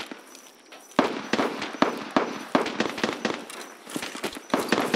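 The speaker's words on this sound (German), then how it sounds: "Boah, jetzt schießen die hinter mir." Gunfire erupts behind the player in the video game Escape from Tarkov: a rapid, irregular string of sharp shots and bursts at mid distance, fairly loud, with no talking over it.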